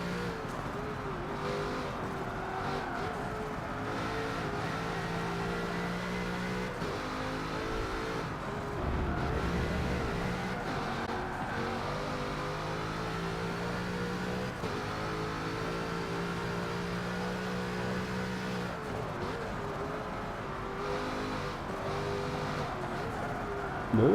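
Bugatti Chiron engine in Forza 7 droning steadily at speed, pitch climbing and falling through gear changes, continuous and moderately loud with faint talk underneath.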